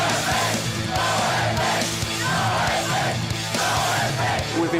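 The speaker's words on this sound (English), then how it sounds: "you could hear these kids chanting and screaming" A crowd of about a hundred kids outside a hotel door before a NOFX punk show, chanting and screaming together in a loud, continuous, rhythmic roar with pulsing shouts throughout.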